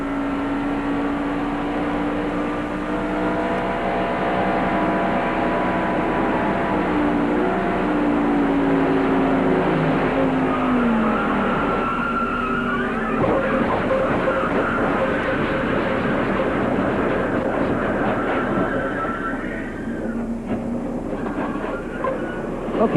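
NASCAR stock cars race at Charlotte during the 1994 Coca-Cola 600, a dense continuous roar of engines with sliding whining pitches as cars pass, loud and steady throughout.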